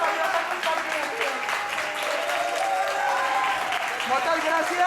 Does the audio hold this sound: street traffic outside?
no